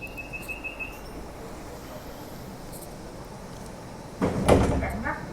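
Doors on an MTR Light Rail Phase I tram on Route 505 slide shut with a firm thud near the end, after a warning chime and a recorded announcement over steady cabin rumble.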